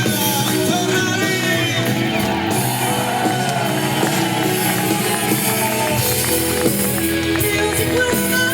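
A live concert crowd at Jesolo cheers and shouts loudly for a singer, a sustained roar of voices blended with band music throughout.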